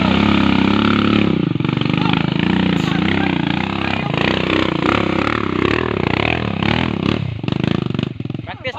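A motorcycle engine revs repeatedly during practice, rising and falling in loud, close bursts with rattling clatter, while people talk over it throughout.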